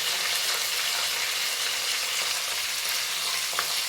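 Coriander and curry leaves frying in a pan for coriander pongal, a steady close hiss and crackle of sizzling oil that runs unbroken with no talk.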